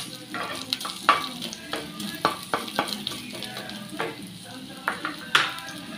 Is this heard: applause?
no